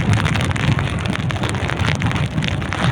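Rain and wind lashing a small fishing boat at sea, a dense steady roar of wind buffeting the microphone with pattering rain, loud and continuous throughout, no talking.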